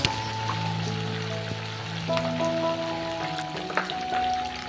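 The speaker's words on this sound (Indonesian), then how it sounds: "Nah, saya di sini gorengnya sampai kecoklatan seperti ini aja." Chicken pieces fry in hot oil in a pan over medium heat, giving a steady soft sizzle with little crackling pops, while faint sustained musical tones play underneath.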